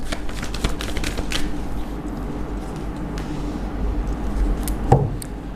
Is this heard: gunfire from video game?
no